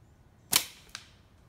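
Flat band slingshot shot fired over a chronograph, a sharp single snap followed by a fainter second click, quiet otherwise.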